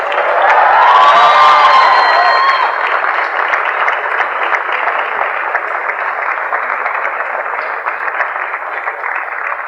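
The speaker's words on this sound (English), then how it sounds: "let's give us a thunder of claps and a round of applause" A graduation ceremony audience breaks into a round of applause, loud and dense at first and then settling into steady clapping, with a few cheers at the start.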